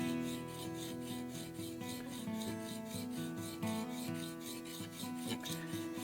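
A curved plane blade is rubbed back and forth on the coarse side of a diamond sharpening stone, a steady gritty rasping with a rhythmic rub pattern, close and quiet, with no talking.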